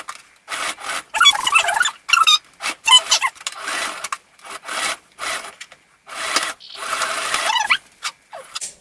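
A sewing machine stitches elastic into the back of a gathered long skirt using a wide stitch. It runs in short, rapid mechanical whirring bursts, about ten of them, separated by brief pauses, close and moderately loud.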